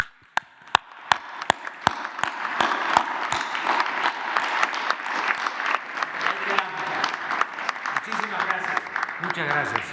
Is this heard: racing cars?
no